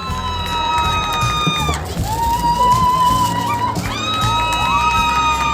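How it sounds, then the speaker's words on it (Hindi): An audience claps and cheers for a chef at a cooking show, a lively crowd with whoops and shouts, loud and sustained with a brief dip in the middle. "आपकी जोरदार तालियों में ladies and gentleman giving the big hand for chef Gulzar."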